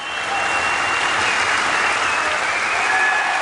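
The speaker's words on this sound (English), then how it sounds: "The Sheffield crowd delighted by the result, especially when I present Colin Price with" A Sheffield crowd applauds after the final of a 1991 UK national wheelchair basketball tournament, with steady, dense clapping sustained evenly throughout and no break.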